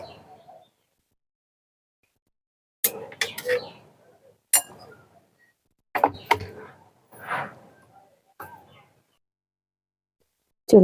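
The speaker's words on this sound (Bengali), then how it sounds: "এবার আমরা আপনাদেরকে দেখাবো কেটে" A knife chops cleaned, scaled hilsa fish into small pieces on a board. Several sharp, close knocks come in irregular bursts separated by silent gaps, with brief soft voice sounds around them.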